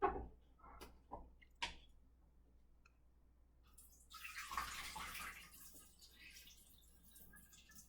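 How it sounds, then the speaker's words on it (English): Alum water is poured out of a jar into a sink, a soft splashing gush after a few faint clicks and taps, fairly quiet and close. "over the sink, empty the alum water and bag out of the jar"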